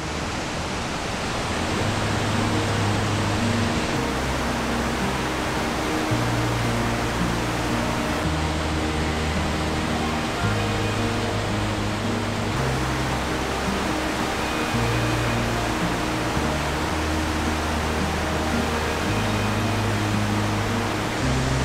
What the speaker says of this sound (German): Godafoss ist der Wasserfall der Götter. Nicht der größte in Island, aber einer der schönsten.